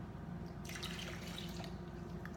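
Non-dairy coconut milk pours into a bowl, giving a soft, steady liquid trickle and splash that rises briefly over a low background hum.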